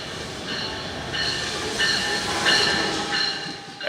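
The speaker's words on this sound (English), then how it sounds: "The next train to stop on track 1 will be the 7:07 p.m. eastbound train to Penn Station" An eastbound train pulls into New Brunswick station on the way to Penn Station, New York, with steady rolling rumble and repeated high wheel squeals and clicks over a few seconds, fairly close and alone without talk.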